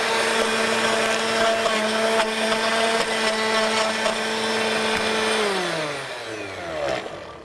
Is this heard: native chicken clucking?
no